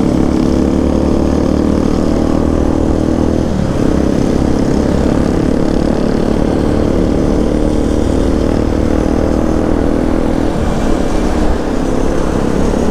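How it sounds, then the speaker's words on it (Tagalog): Big motorcycles riding past produce a loud, sustained engine roar that stays close and dense throughout, with slight swells as machines go by and no speech. "Ayan o, ang astig na mga motor."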